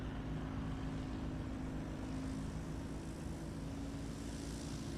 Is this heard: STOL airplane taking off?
yes